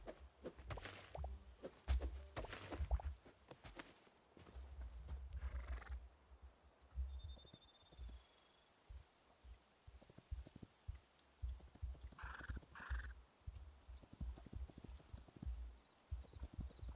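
In the Hytale video game, a horse's hooves clip-clop in quick bursts and a whinny rises in a couple of short calls, all at a low level over quiet ambience.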